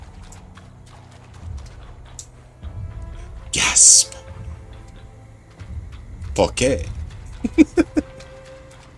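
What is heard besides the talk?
character stomping footsteps in a video game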